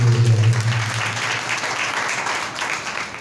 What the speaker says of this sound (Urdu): زوردار تالیاں خداوند کے لیے جائیں.